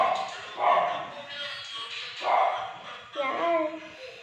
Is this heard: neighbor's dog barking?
yes